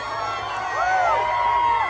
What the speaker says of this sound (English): The crowd here going crazy for the former president.